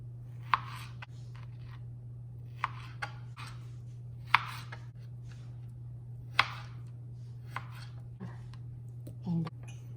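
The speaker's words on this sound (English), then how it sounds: "But let's chop this cilantro in fine chop." A knife chops cilantro finely on a cutting board, with sparse, sharp, separate strikes spread over several seconds above a steady low hum.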